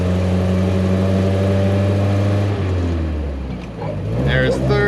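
A 1965 Land Rover Series IIA on the road, its engine droning loud and close at a steady pitch, then easing off and picking up again as it shifts gears, with someone talking over it.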